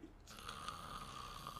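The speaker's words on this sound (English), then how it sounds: "If you snore one more time" A single soft snore, a faint raspy breath drawn in and held for a moment, with no talking.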